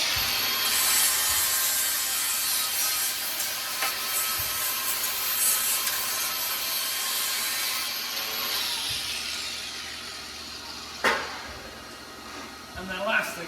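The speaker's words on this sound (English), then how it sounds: "I just take my sander and get my weld slag off" A handheld sander grinds weld slag off welded steel while setting up a Hi-Lift Extreme jack for sheds, a steady broadband rasping whir running almost continuously with a couple of sharp clanks near the end.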